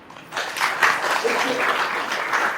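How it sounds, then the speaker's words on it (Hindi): A gathering of the Gayatri Parivar at GCK Delanipur breaks into dense, even applause that rises quickly and holds at a steady, fairly loud level. "एक बार आप लोग अपने पुरुषार्थ के लिए तालियां जरूर बजाइए"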